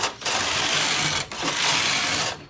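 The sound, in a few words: knitting machine carriage knitting rows with tuck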